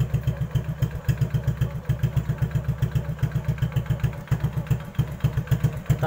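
Close Honda Supra X 125 motorcycle with an FU exhaust idling with a steady, lumpy low-pitched pulse, running alone throughout.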